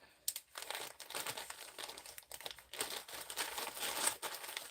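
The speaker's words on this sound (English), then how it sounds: "after that I will put it in my Ziploc bag. Make sure that I draw as much of my air out" Plastic Ziploc bag crinkling and rustling up close, a steady crackle with short bursts as air is pressed out of it, no voices.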